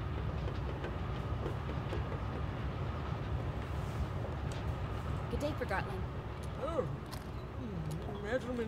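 A steady low rumble of a moving train in the video game Forgotton Anne runs throughout at moderate level, with rolling rail noise underneath and voices speaking over it.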